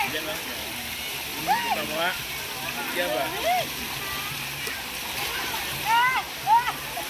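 Mountain stream water at a resort in General Santos City, Philippines rushes steadily and splashes now and then, with people talking and calling out over it.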